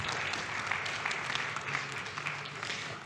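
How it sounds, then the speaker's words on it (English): Continuous applause from a conference audience at a forum stage in Bratislava, dense clapping sustained throughout at moderate loudness, welcoming a minister to the stage. "Big round of applause, everybody."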